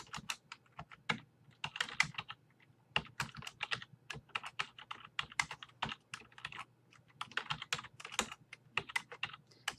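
Rapid computer keyboard typing while C code for a function that prints book titles is entered, with dense irregular keystroke bursts and brief pauses, close and clear, no talk.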